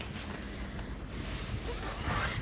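Cold wind blowing across the high mountain pass at Sela Pass near army bunkers, a steady low roar of gusts buffeting the microphone with no voices.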